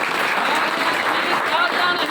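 An audience at a political speech claps in a dense, continuous burst of applause, steady and loud, with a voice mixed in.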